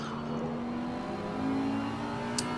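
GT4 race cars circle the Barcelona circuit in a sim racing league, a steady engine drone with a gentle rise in revs, heard at moderate distance with no talk over it.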